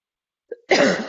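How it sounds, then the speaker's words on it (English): A single harsh cough, close and fairly loud, preceded by a short throat sound and a brief pause. "Pardon the cough."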